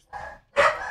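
Dogs barking indoors in the background of a tabletop role-playing game session, two sharp barks in quick succession, the second louder, with no talk between them.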